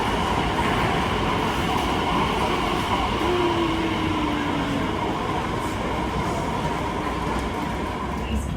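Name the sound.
train ride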